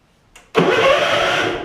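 A Gravely 16 Professional walk-behind mower engine cranks with a short click, then catches and runs loudly and steadily at close range, holding a strong even drone until it eases slightly at the end.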